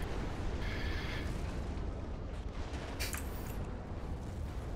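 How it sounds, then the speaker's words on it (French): Huge explosions from T2 energy bursting in a real-time strategy video game during a 2v2 tournament match, a dense continuous roar of blasts and booms with brief crackling bursts, loud and unbroken throughout. "L'énergie T2 qui explose dans des énormes explosions"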